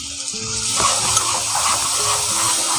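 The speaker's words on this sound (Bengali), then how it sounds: "সেখান থেকেই আমি পানি দিয়ে দিচ্ছি" Water poured into a simmering Bangladeshi-style desi chicken curry (murgi vuna) in a pan, a steady sizzling, bubbling gush with faint stirring, close and fairly loud throughout with no talking.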